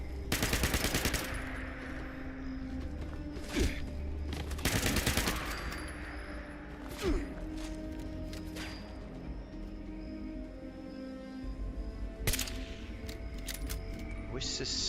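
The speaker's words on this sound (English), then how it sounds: "The hell is shooting me?" Gunfire in the video game Fallout 76: sharp bursts of rapid automatic shots and single cracks scattered over the clip, loud against a steady game background.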